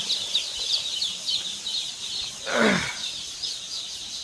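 A crowd of Sonali hybrid chicks peeping continuously, high, thin chirps overlapping in a busy chatter, with one brief lower swooping call partway through.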